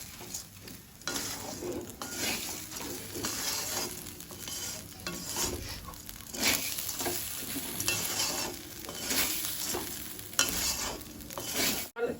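Rice is stirred with ginger in a hot pan for vegetable pulao, with steady sizzling and frying under repeated scraping strokes of a spoon against the pan, close and continuous with no talk.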